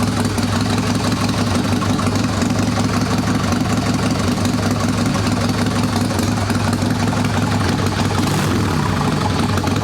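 An Evo-engined Sporty chopper motorcycle idles steadily with its choke off, a loud, close, continuous low throbbing rumble that runs unbroken throughout, with no talk.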